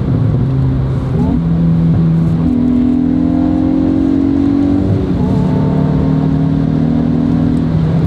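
A Hyundai i20N in N mode drones loudly on the Autobahn, the engine note stepping up through gear changes with a steady interior roar and no speech.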